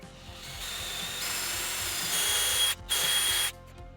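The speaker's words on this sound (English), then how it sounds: "I think I'm going to drill this up and through it" A power drill whirs steadily as it bores up through a piece of wood, a close continuous drone with a brief dropout near the end before the motor stops.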